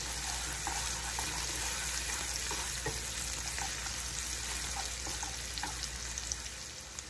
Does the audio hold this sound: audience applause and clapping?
no